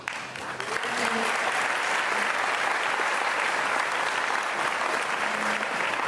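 Applause for high school essay contest winners at a veterans salute event, a dense, even roar of clapping from a large audience that builds quickly and holds steady throughout.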